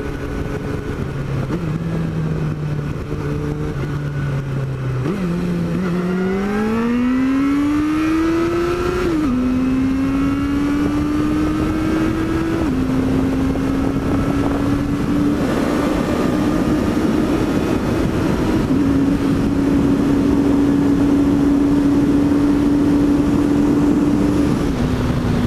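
A motorcycle with its silencer fitted runs continuously while riding, engine pitch rising and settling through gear changes over a steady loud drone with wind noise, no talking.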